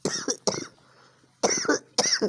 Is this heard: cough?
yes